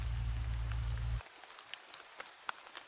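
Steady rain patters with scattered drips and light taps after a low hum cuts out, soft and close, with no voice.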